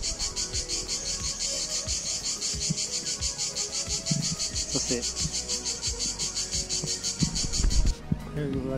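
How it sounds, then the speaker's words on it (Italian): Dense chorus of cicadas shrilling steadily along a countryside walking route, loud and continuous through the whole stretch, with footsteps and faint voices beneath. "No, queste cicale sono incredibili."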